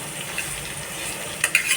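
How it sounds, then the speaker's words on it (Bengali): Soft, steady sizzling of chopped onions frying in a pan, with a few sharp clinks of a utensil stirring near the end. "পেঁয়াজটা একটু ভাজা ভাজা হবে"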